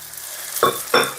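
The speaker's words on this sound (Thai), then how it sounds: "เอาพัดให้เส้นสุก ก่อนครับ" Pink rice noodles stir-fried in a hot pan, a low background sizzle broken by two quick scraping tosses of the spatula close by.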